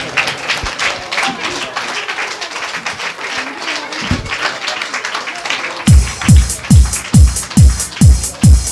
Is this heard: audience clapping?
yes